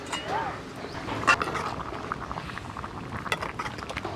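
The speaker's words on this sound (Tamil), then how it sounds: "இப்போ மூடி விடுவோம் கொஞ்ச நேரம் கொதிக்கட்டும்" Soft bubbling and simmering of snakehead fish curry in a covered pot, a steady low burble with occasional small pops and clinks, no talking.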